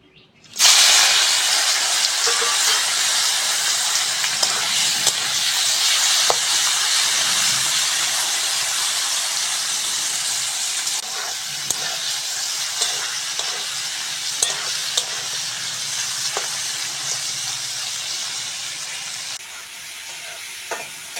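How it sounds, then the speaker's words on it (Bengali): Prawns fry in a pan before going into an okra curry, giving a steady, close hiss and sizzle for about twenty seconds. Occasional clicks of stirring break in, and the sizzle eases slightly toward the end. "চিংড়ি দিয়ে ঢ্যাঁড়সের ঝোল করার জন্য প্রথমে চিংড়িটা ভেজে নেব।"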